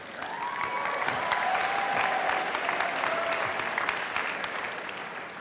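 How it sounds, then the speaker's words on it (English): A large university convocation audience gives a sustained round of applause, many hands clapping evenly across the hall, with a few faint tonal sounds drifting underneath. "Give him a good round of applause."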